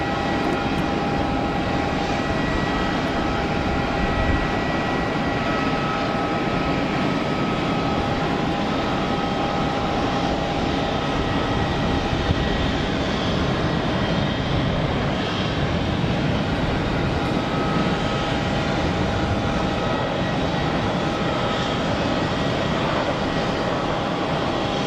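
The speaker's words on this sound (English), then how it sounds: "Next up, departure, Aeropartner citation to Pisa" An Aeropartner Cessna Citation business jet departing Geneva Airport, a steady broadband jet roar with a sustained tonal whine, loud and continuous throughout without voices.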